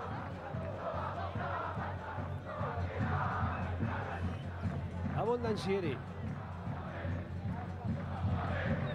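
Stadium crowd at a Boca Juniors away match against Huracán de Tres Arroyos, applauding as a Boca substitute comes on; a dense, steady roar of clapping and voices fills the clip, with commentators talking over it.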